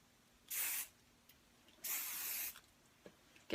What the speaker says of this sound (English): I'm going to use my spray.